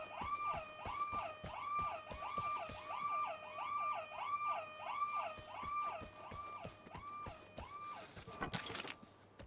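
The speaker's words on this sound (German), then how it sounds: "irgendein Alarm wird auch angehen gleich" An alarm siren wails in the game Vigor, a loud rising and falling electronic tone that repeats steadily, roughly once a second, with a sharp clatter near the end.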